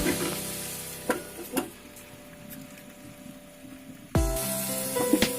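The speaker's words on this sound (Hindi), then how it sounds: "आलू को भून लीजिए" Potatoes frying in oil for aloo paneer give a steady low sizzle broken by several sharp clinks of a spoon stirring the pan, with a louder scrape and clatter near the end; no one speaks.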